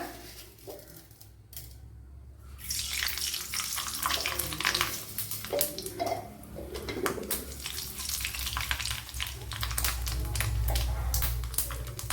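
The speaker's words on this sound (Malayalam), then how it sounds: "ഇവിടെ ഓയിൽ ചൂടായിട്ടുണ്ട് അതിലേക്ക് കടുക് ഇട്ട് കൊടുക്കുക" Mustard seeds splutter in hot oil with a steady, close sizzle and crackle that swells after a quieter start and keeps going for several seconds, with no talking.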